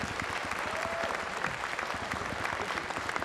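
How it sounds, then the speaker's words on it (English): A dinner audience at the BotCon 2000 convention applauds, dense, even clapping from many hands filling the room for the whole stretch. "everyone should give him a round of applause for actually bringing that print"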